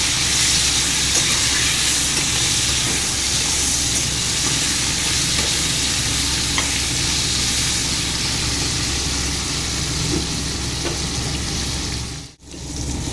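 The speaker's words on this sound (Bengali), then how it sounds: "এখন শুকনো মাছের সাথে আলুটাকে লাল করে ভেজে নেব।" Potatoes frying with dry fish in a pan give a loud, steady hiss and crackle that runs on continuously, with a brief dip near the end.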